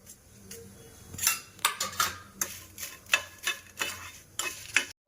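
Dry Kashmiri chillies are stirred in a hot pan, a spoon scraping and clinking in irregular strokes over a faint sizzle.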